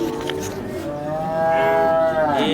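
A calf moos loudly and close at a cattle market selling heifers and HF cows, one long drawn-out call that swells and holds to the end of the clip.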